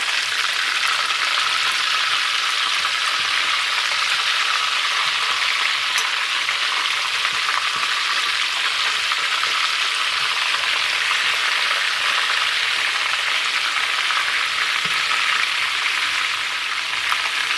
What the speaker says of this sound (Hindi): चूँकि हमने चिकन का कीमा लिया है, इसलिए ये बहुत जल्दी फ्राई हो जाएंगे